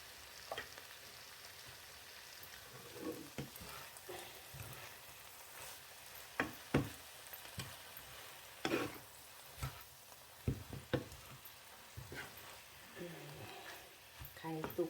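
Three eggs frying in a pan, giving a soft, steady sizzle with scattered crackles and occasional clinks of a utensil, fairly faint throughout.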